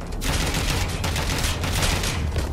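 Heavy gunfire in the video game Watch Dogs: Legion, a loud, continuous barrage of rapid shots with sharp repeated cracks over a rumbling low end, no speech.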